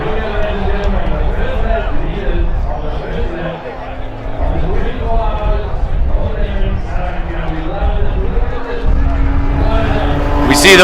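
Race cars roar near and far at the start of a 24-hour endurance race, with engine drones rising and falling under a commentator's voice and crowd chatter.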